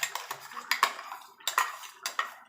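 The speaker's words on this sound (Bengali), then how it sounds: "যে এক্সট্রা সর্ষেটা রেখেছিলাম সেটা এবার দিয়ে দেবো।" Metal utensils clink and scrape against a pan while reserved extra mustard paste is stirred into a shrimp curry, a run of close, irregular taps and scrapes with no talking.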